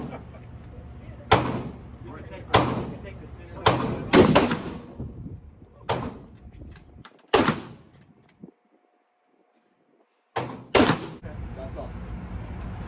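Glock 23 pistol fired at a gun range: about eight sharp, loud shots in an irregular series, several quick pairs, then a pause of near silence before two final shots, with low range noise between them.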